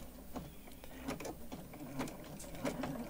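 A sewing machine fitted with a walking foot stitches through a quilt, giving a soft, quick mechanical whir with faint rhythmic ticks, quiet and close, with no talking.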